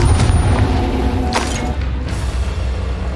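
A Confringo blasting spell explosion in a video game, heard as a loud, sustained booming rumble with a crackling burst partway through, steady and close.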